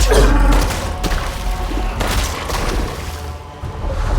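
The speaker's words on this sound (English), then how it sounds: "definitely the kind of barrel that explodes" A barrel explodes in the video game Resident Evil Village with a loud, booming thud at the start, followed by rumbling game sounds and scattered impacts.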